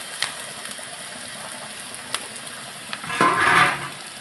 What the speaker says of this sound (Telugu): ఇప్పుడు ఇందులో వేపుకున్న కాకరకాయ ముక్కలు వేసుకోవాలి.